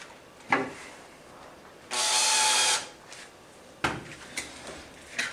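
A power drill driving screws into wooden boards while a children's wooden playhouse is assembled: one steady loud whirring burst under a second long, framed by knocks and clunks of handled wood, close with no talk.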